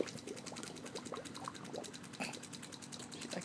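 A 14-week-old puppy blows bubbles in pool water, making a steady burbling, gurgling stream of bubbles close up, with no talking.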